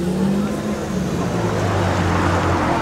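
A Westfield sports car at a classic car and aircraft event passes close by with a loud engine growl whose pitch drops as it goes, while someone talks over it.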